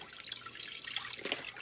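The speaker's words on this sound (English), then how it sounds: "Instead of using water to cook the potatoes," Chicken stock pours into a pot of potatoes, a close, continuous liquid splashing and trickling with small drips scattered through it, and no talking.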